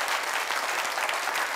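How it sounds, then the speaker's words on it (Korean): Applause from a conference audience at a church-hosted birth and childcare event opening service, a steady, dense wash of clapping filling the whole moment without voices. "박수 없으십니까?"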